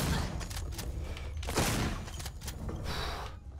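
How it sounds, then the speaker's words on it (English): Shotgun fire in Alien: Isolation, several heavy, close blasts in quick succession with a sharp central boom near the middle, set over a dense rumbling background and mechanical clatter. "Because I'm just going to use a shotgun this time"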